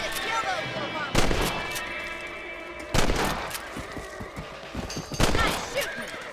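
Rifle shots aimed at rabbits in the Western video game Red Dead Redemption: three loud, sharp cracks spaced a couple of seconds apart over steady game ambience and music.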